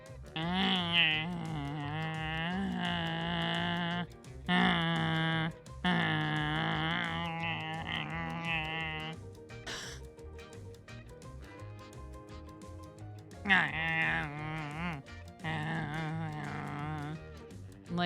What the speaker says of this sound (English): Dude, our dogs are acting like little demons upstairs. I can hear them.